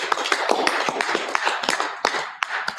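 An audience at a university World Education Day event applauds after a presentation, a dense close round of clapping with sharp individual claps popping out of the steady patter.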